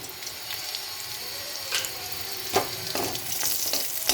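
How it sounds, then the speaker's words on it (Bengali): Whole spices (cumin, garam masala, cardamom, cloves) with green chillies frying in oil for a pointed gourd korma, a soft steady sizzle broken by a few scraping stirs and clinks in the latter half. "মশলাটা একটু নেড়ে নিচ্ছি"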